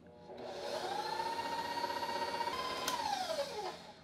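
An electric mixer beats keto gingerbread cookie dough with a steady, close motor whine that holds its pitch for about three seconds, then winds down as it is switched off.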